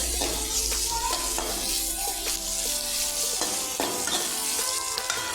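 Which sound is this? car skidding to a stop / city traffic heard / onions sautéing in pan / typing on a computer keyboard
onions sautéing in pan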